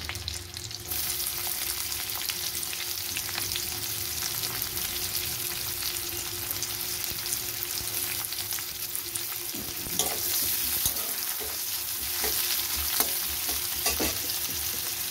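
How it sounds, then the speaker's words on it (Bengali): Onions crackling and sizzling in hot oil, a continuous close frying hiss with occasional stirring scrapes and pops. "দেখুন, পেঁয়াজটা একটু ভাজা ভাজা হয়ে গেছে।"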